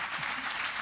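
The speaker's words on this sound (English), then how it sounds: "Give your hand a round of applause." Audience applause for an author at a book talk, a short, fairly quiet burst of steady crowd clapping.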